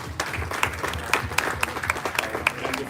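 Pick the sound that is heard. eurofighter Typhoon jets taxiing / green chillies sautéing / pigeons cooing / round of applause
round of applause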